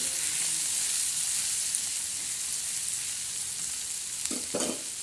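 Turmeric and salt sautéing in a pan with onion for a spicy bitter gourd dish, a steady even sizzle close by, with a short pair of stirring scrapes toward the end.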